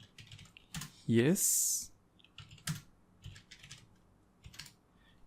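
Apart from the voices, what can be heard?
typing code on a computer keyboard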